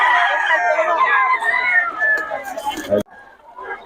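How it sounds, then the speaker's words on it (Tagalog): Roosters crow over a noisy crowd of gamecock enthusiasts in Bocaue, several long calls overlapping with clucking, ending in a sharp cutoff. "Solid mga manok ni Boss Pere."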